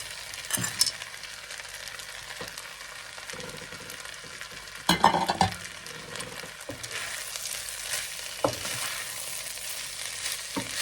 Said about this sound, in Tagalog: ihalo na natin ang ano tong green peas